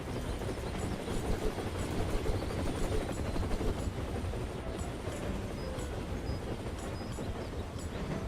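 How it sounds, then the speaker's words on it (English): A helicopter arrives in the train-management video game Tiny Rails, giving off a steady, broad whirring rotor drone that holds evenly throughout at moderate volume, with no talking. "here comes the helicopter"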